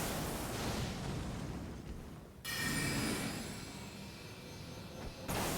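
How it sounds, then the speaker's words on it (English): A big magic explosion in an Elden Ring-style fantasy game on the Altus Plateau, heard as a loud, dense rumbling burst that cuts off briefly and then returns as a sustained roaring blast with a bright crackling edge. "Yeah, big explosion really helps."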